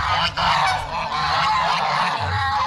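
Trained domestic geese in a home farmyard honk loudly and continuously, several birds overlapping in a dense, close chorus of nasal calls with no talk.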